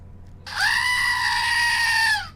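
A goat in the video game Mass Effect lets out a single loud, sustained bleat lasting nearly two seconds over a low background hum.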